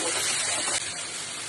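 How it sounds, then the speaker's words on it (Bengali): Raw chicken tipped into a hot pan of sizzling chilli chicken masala with sauce, sautéed vegetables and turmeric, a dense, loud, steady frying hiss that eases slightly partway through. "এবার চিকেনটা ঢেলে দিচ্ছি"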